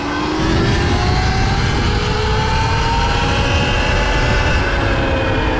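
A Surron Ultra Bee electric motorbike launches hard from 30, its motor whine climbing steadily in pitch over loud, constant wind and road rumble, heard close up from onboard for several seconds with no talking.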